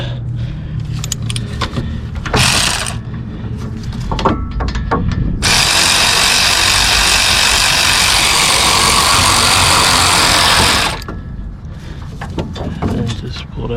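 A socket ratchet works on a brake bolt on a 2008-2012 Chevy Malibu, with close clicking bursts, then several seconds of steady, loud spinning whir before the clicks return. Brief handling clatter surrounds it.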